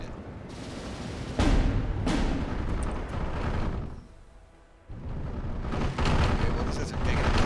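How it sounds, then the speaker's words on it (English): Mortar and artillery fire in the WWII strategy game Steel Division II, heavy booming impacts rumbling continuously with several louder blasts and a short lull midway, with faint talk underneath. "Where are those mortars coming from?"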